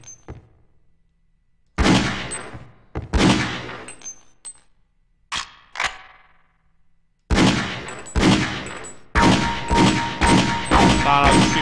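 Bursts of gunfire crack out in the Half-Life: Opposing Force boot camp training course, loud sharp volleys in clusters with metallic pings and clangs between them, growing into sustained rapid fire toward the end.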